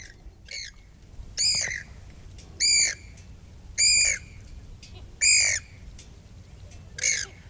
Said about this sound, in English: The Great Mynas and reed warblers claim these stalks